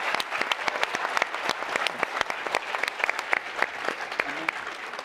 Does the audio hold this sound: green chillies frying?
no